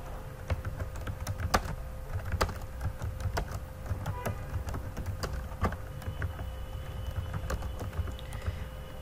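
Typing on a computer keyboard produces quick, irregular clicks of keystrokes, fairly close and moderately soft, over a low room hum, with no one speaking.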